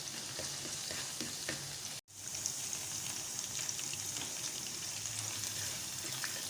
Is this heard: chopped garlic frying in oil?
yes